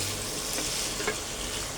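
Beef lung (fapsa) fries in a thick spice paste, giving a dense, continuous close sizzle with a faint stirring scrape partway through.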